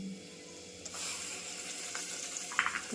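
Ground masala paste hitting a hot pan of spices for a Marathi home-style dish, bursting into a sharp, close sizzle that crackles and spits in brief flurries, with no talking.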